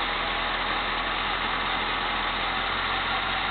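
Cadillac engine idling with a steady, close, continuous low rumble, its speed dipping slightly as the revs drop, no speech over it.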